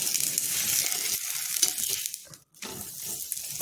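Masala flatbread fries in oil on a pan, giving a loud, bright, continuous sizzle. The sizzle drops out briefly near the middle when the bread is turned, then resumes close and steady.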